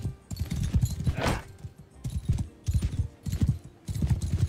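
Horse galloping in the video game Mount & Blade II: Bannerlord, a rapid thudding clip-clop of hooves in bursts, close and fairly loud, with a brief whinny-like swell among the strides.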